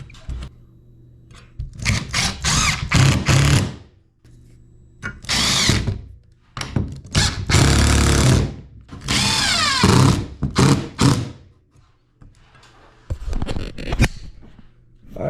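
Power drill driving screws into LED aluminum channels, several separate loud whirring bursts of a few seconds each, broken by quiet gaps.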